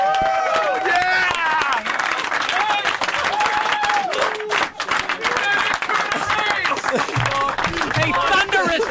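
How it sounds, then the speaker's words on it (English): Loud applause with cheering and whooping from a studio crowd, dense and continuous, mixed with excited voices and laughter throughout. "A thunderous round of applause"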